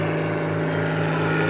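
A Helio Courier STOL airplane flying slow figure-eight maneuvers at a demonstration gives a loud, steady propeller drone with a constant hum throughout, heard alone.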